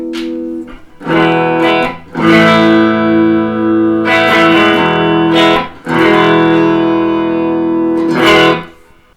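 Electric guitar chords from a Harley Benton DC kit guitar strummed through a Marshall Origin 20 amp with a touch of reverb, played in several ringing phrases separated by short pauses.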